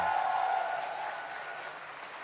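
Audience applause at a large corporate conference in the Philippines, a dense wash of clapping that starts full and slowly fades over about two seconds.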